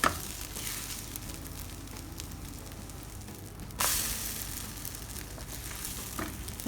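Beaten egg frying in a pan for fried rice, crackling and sizzling steadily up close as it is moved around, with a sudden louder surge of sizzle partway through.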